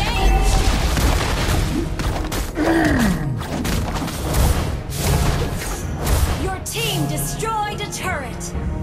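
Mobile Legends battle with crashing booms, mechanical clanks and a rapid fusillade of skill effects as a turret is destroyed, dense and loud throughout, with game voice lines and sweeping tones mixed in.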